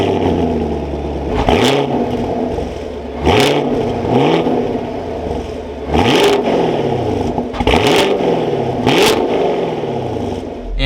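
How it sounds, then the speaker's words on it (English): A 2022 Chevrolet Camaro 1SS V8 fires up and revs in several sharp blips about every one and a half seconds, each falling back to a loud, rumbling idle, recorded close with no talking. "But let's fire this V8 back up with my foot on the brake."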